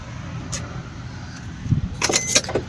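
A set of keys for a 2019 Maruti Tour S jangles in short metallic bursts near the end, after a quiet, faintly noisy stretch.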